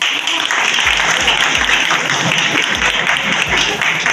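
Loud, dense applause from an audience at a Republic Day rally, a continuous crackle of many hands clapping that holds steady for the whole stretch.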